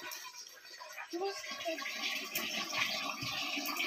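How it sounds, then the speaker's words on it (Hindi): Water poured into a pot for heating over a lit fire indoors in a village kitchen on a cold, rainy day, a steady splashing and trickling pour running throughout at moderate level. "पानी डाल दी हूँ देखते में"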